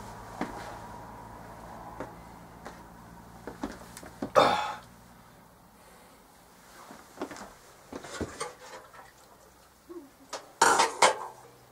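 Dishes and a pan clatter in sharp, scattered bursts, with a loud clang near the middle and another cluster toward the end over a quiet room.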